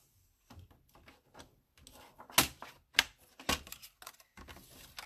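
Cardstock being trimmed for a Stampin' Up fun fold card, a series of faint close clicks and scrapes building to a few sharp louder snaps of the paper trimmer, with quiet gaps between.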